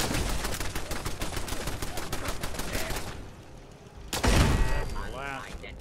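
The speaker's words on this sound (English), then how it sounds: "this plasma rifle here sure has come in handy against all the turrets in this place" A plasma rifle in Fallout 4 fires a rapid, evenly spaced stream of shots at turrets for about three seconds. After a short lull, a loud burst and crackling impacts follow, with a voice talking over the action.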